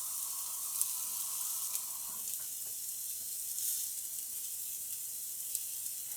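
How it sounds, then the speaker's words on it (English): Brussels sprouts charring in a hot pan give off a steady, soft hiss of sizzling with faint scattered pops, continuous and even throughout, with no voices. "I'm getting as much charring as I can on that Brussels sprouts"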